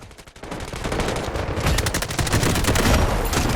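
Rapid automatic fire from a silenced KC17 rifle in the shooter game Delta Force Mobile, a dense rattling burst of shots that starts after a brief lull and runs continuously and loudly to the end.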